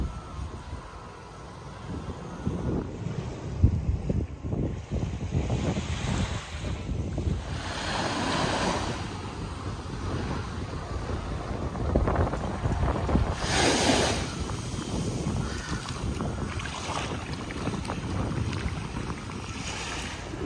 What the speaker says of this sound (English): It's a little bit windy, but the water looks nice.